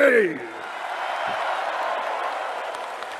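Rally crowd in Indonesia keeps up sustained applause after a brief voice at the start, the clapping staying even and moderately loud throughout.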